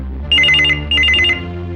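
A telephone rings indoors at home with two short electronic ringtone bursts, bright and loud, separated by a brief pause over a quiet room background.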